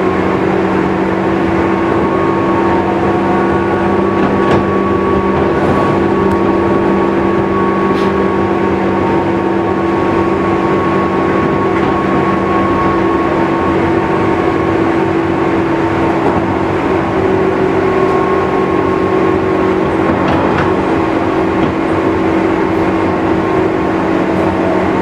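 A JR 201 series electric train running between Imamiya, JR Namba, Kawachi-Katakami and Oji, recorded from inside: a loud, continuous drone of motors and rolling wheels on rail with steady rumble and occasional faint clicks.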